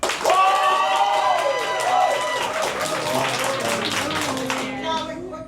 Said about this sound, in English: Applause alone, no woos, no woos.